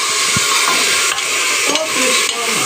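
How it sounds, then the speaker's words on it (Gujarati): Chopped tomatoes frying in a hot pan for mutter paneer, a steady loud broadband sizzle with occasional stirring scrapes and small clicks, close by and without talk. "હવે આ ટામેટા જે આપણે કાપ્યા છે એ જ આપણે આમાં નાખી દેવાના"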